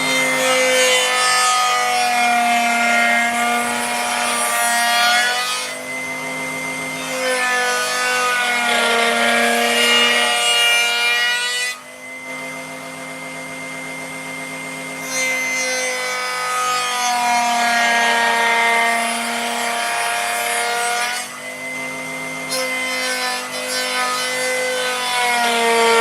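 A power sander whirs with a steady whine in long passes over a carved wooden car's wheel arch, dropping off briefly between strokes before starting again, close and loud.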